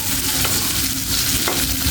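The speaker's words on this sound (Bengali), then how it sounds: "মাছটা আমার ভাজা হয়ে গেছে, এখন আমি নামিয়ে নেব।" Koi fish frying in hot oil in a pan, a steady dense sizzle running close and loud throughout with faint scraping touches.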